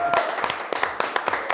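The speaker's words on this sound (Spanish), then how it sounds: "le vamos a dar un aplauso" A studio audience on a talk-show set gives a short burst of applause for a guest. The claps are close, quick and uneven, forming a brief flurry of hand hits.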